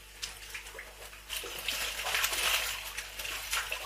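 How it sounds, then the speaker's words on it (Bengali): Fish in a biofloc farming tank splash and slap at the water in quick, irregular bursts, faint and close, with continuous trickling water underneath and no talking. "মাছ লাফিয়ে বেরিয়ে যাচ্ছে।"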